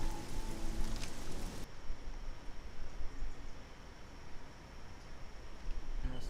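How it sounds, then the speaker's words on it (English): Steady, hissing rainfall in the video game Oblivion, with a dense patter of drops, fairly soft and even, continuing without any voices. "It's just raining."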